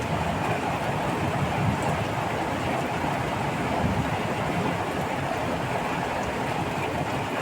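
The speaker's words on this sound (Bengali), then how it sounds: "আজকে বহুতই বৃষ্টি হচ্ছে" Heavy rain falling over a village in Balurghat, North Bengal, a steady, dense, unbroken roar of downpour with no voices.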